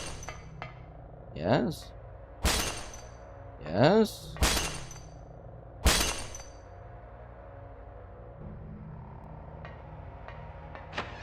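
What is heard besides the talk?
glass breaking in a horror video game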